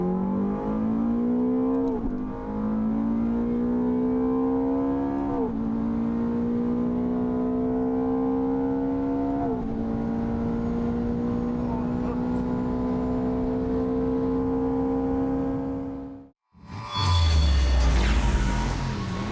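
A Corvette Z06 with lighter wheels and an ECU upgrade accelerates hard, its engine note climbing through several gear changes in a steady, loud run before a sudden cut and a burst of rumbling, wind-buffeted noise.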